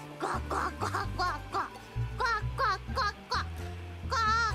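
A voice imitates a goose with a rapid series of nasal, quacking honks over a steady background tune.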